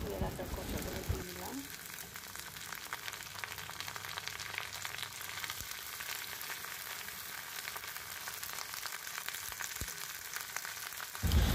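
Prawn shells fry with onions in a pan, a steady close sizzle running throughout with a soft clatter at the start as the shells go in.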